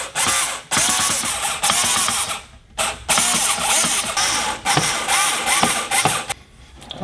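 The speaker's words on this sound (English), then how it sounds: "Alright, so I got that screwed down into place." A power driver whirs in bursts while screwing a Royal Enfield motorcycle seat cowl down onto a piece of wood, about six loud close runs separated by brief pauses.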